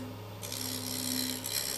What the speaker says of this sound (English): So I'm going to sand all this up